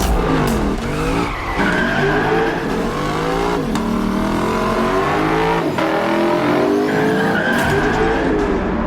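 A Lexus LC500's 5-liter naturally aspirated V8 revs hard and continuously, pitch climbing and dropping through gear changes, with tires squealing against the roaring exhaust.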